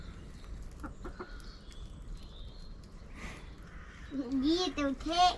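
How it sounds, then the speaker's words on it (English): Chickens clucking in a muddy backyard chicken run while they are fed corn, a few close calls rising near the end with a voice and other talk in the background. "Little chicken."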